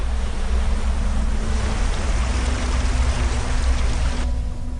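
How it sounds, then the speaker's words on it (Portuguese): Giant tsunami waves surge toward a city in a continuous loud roar of rushing water, broad and churning, that cuts off abruptly near the end. "Ondas gigantescas aceleram na direção da cidade"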